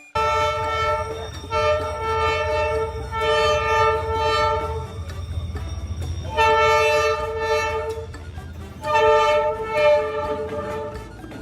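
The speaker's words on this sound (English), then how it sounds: "a train passes under your window every day?" A train rumbles past close by beneath apartment windows while its horn blares in several long, loud blasts separated by short pauses.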